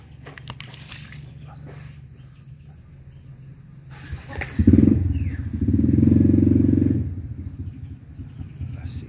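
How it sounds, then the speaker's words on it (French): A motorcycle engine and muffler rumble nearby, swelling louder for a couple of seconds before easing off, with a low steady idle throughout. "J'aime pas le bruit de son moteur, son muffler."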